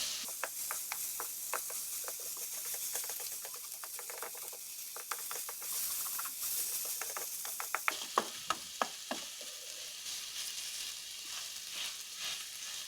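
Radish chutney frying in a pan, a soft steady sizzle with repeated scraping and stirring clicks from a spoon against the pan, quiet and close, with no talk.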